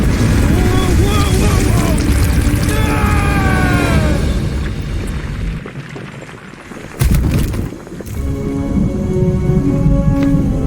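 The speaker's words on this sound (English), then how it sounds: "is the storm actually getting worse?" Video game thunderstorm with steady heavy rain, a low rumbling thunder swell and a sharp crack partway through, while characters talk over the storm.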